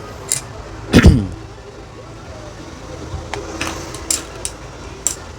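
A seal stamp comes down on a repair bill with one firm, close thump, followed by lighter taps and paper-handling knocks against a quiet room background.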